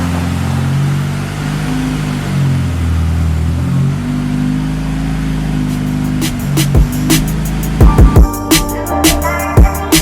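A car's engine idles and pulls slowly into a garage, a steady close rumble with small surges, followed by a series of sharp clicks and knocks near the end.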